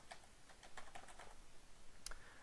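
Quiet, rapid tapping of a computer keyboard as a console command is typed, a quick burst of soft clicks with a slightly sharper keystroke near the end.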